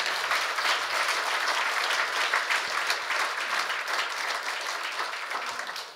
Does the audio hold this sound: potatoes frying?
no